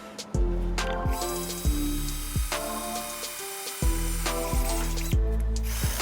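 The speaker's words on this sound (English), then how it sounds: "use a small drill bit to drill a pilot hole in the center of where the bolt holes are going" A handheld drill with a small bit bores a pilot hole through a metal DIY EGR delete plate for a Datsun 280ZX. It gives a series of close, loud whirring bursts with grinding, ratchet-like pulses and no talking.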